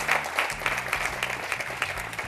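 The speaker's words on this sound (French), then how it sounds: "je vous demande d'applaudir encore une fois" Audience applause at a televised youth showcase, a crowd clapping steadily and fairly loudly for about two seconds with no one speaking.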